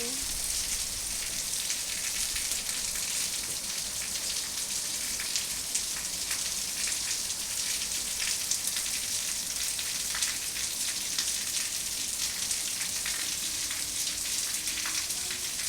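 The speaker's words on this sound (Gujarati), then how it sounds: "સારી બધી વરસાદ આવે છે" Steady rain pours down outdoors under a shelter where birds take cover, a dense even hiss of drops on surfaces that continues without pause throughout.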